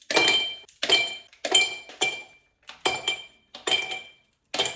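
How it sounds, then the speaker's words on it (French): Small, oddly shaped ice cubes clink into a drinking glass in a run of seven sharp, bright drops, each a quick chink followed by a brief rattle, close and clear with short gaps between them. "Je vais mettre des petits glaçons dans mon verre, comme d'habitude."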